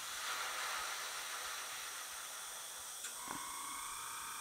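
An airbrush sprays True North Precision enamel paint in 1942 Deck Blue, giving a steady, faint hiss throughout with a brief click near the end.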